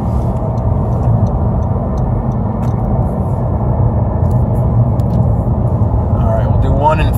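A 2017 Honda Civic 1.5T with a six-speed manual cruises in fifth gear on a freeway, giving a steady, loud low engine and road rumble throughout while someone talks over it.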